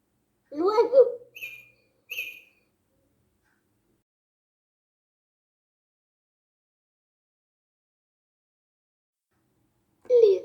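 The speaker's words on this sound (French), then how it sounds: "L'oiseau." Short electronic bird chirps from a VTech talking picture book toy, a quick burst of two or three tweets following a brief synthetic voice, then silence until another toy sound starts at the very end.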